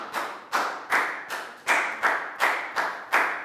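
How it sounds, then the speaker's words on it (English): Applause for a student in a classroom, a small group clapping in about eight evenly spaced, close bursts, with no talking. "Big round of applause for Bangpon"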